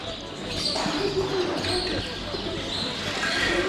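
Soft pigeon cooing and faint bird chirps sound over a steady, busy bazaar murmur, fairly distant and low in volume.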